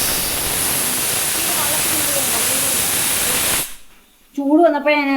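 A pressure cooker cooking beef curry vents steam with a loud, steady hiss that cuts off abruptly. A voice speaks shortly after.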